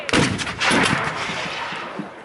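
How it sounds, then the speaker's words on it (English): Confederate cannons fire at an American Civil War battle reenactment, a loud booming blast with a long rolling echo that fades out over two seconds, with a second softer boom close behind the first. "the Confederate cannons are trying to give some support"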